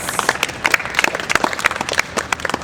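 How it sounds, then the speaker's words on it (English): Scattered, uneven clapping from a modest crowd at an open-air improv comedy show, individual claps distinct and close rather than a dense roar. "Start them off with a round of applause."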